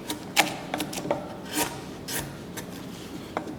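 A sharp chisel pares wood by hand with no mallet, giving a series of short, crisp scraping cuts at irregular intervals, quiet and close.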